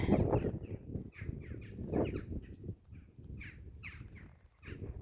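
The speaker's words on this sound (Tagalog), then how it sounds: "Ang daming ibon." Many crows caw repeatedly in overlapping bursts, harsh and fairly close, with a steady low rumble of wind or traffic underneath.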